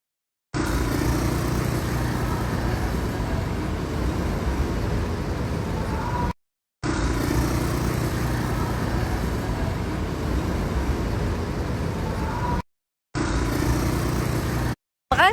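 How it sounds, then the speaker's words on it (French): Motorcycle engine running steadily during a ride in Bali, a continuous broadband drone broken by a few brief cuts. "Vous êtes content de faire de la moto?"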